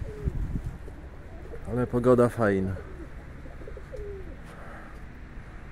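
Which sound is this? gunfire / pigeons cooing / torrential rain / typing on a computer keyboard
pigeons cooing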